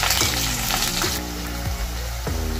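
Chopped onion hitting hot oil with mustard seeds for a taro masala curry, a loud close sizzle that flares then settles into steady frying, with a few soft spatula knocks.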